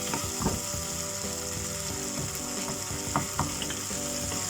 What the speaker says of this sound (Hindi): इस तरह से स्पून की मदद से इस तरह से मैश कर करके चला देंगे।